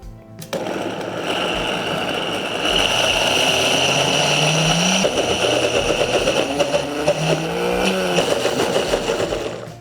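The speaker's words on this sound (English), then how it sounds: "Put the lid on and we're gonna blend it until it's smooth and creamy." Blender whirring creamy cashew pesto sauce with basil under the lid: a steady, loud motor whine with a gritty churning texture and slight shifts in pitch as the blend smooths out, with no talk.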